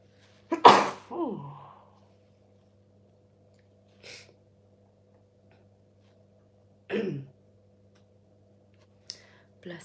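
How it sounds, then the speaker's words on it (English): One sharp, loud sneeze from a person up close, followed by a short breath and a few quiet clicks and rustles in an otherwise silent room. "I feel like I'm going to sneeze"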